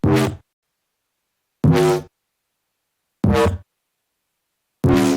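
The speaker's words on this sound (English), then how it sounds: "And then there's that bass wub sound." Bass wub synth sound from a Cymatics preset: four short, buzzy, low wobbling bursts, evenly spaced with silence between, loud and alone.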